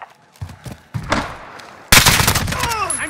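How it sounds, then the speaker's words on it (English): Gunfire in Call of Duty Modern Warfare: a few scattered shots, then a sudden loud burst of sustained automatic fire with whizzing and ringing over it, close and intense. "I'm taking fire!"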